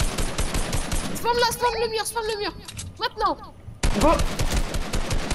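Rapid bursts of video game gunfire sprayed at a wall in an arena match, loud, close crackling volleys that stop partway through and then resume, with voices talking over them.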